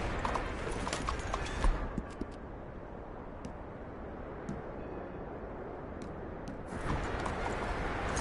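Horse hooves clip-clop at a steady gallop in Red Dead Redemption II, a continuous moderate rhythm over a broad rushing wash of motion and wind noise, easing slightly midway before building again.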